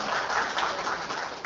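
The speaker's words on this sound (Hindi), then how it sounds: "तालियां" Brief, dense applause from an audience at a political party prize distribution event, a steady wash of many hands clapping throughout.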